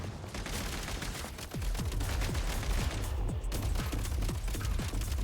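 Steady automatic gunfire in a video game, a continuous run of rapid, fairly loud shots with sharp cracks repeating evenly, amid dense battle noise.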